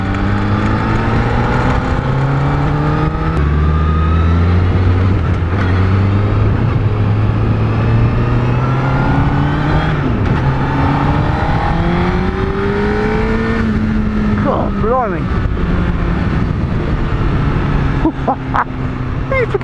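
A Honda CBR1000RR Fireblade motorcycle at speed, its engine note climbing steadily through the gears as a loud, continuous roar close to the rider, with wind rush and brief gear-change dips.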